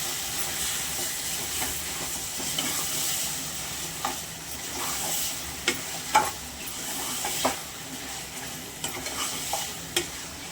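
Chicken fries in a pan with softened tomatoes, a continuous hissing sizzle overlaid with occasional sharp scrapes and knocks as a spoon stirs the pieces.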